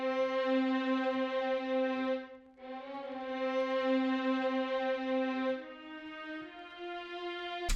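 Sustained orchestral strings from the free Spitfire Audio BBC Symphony plugin play a smooth, layered legato phrase in a beat-making session, briefly dipping to near silence before swelling again and holding steady, fairly soft and without voices.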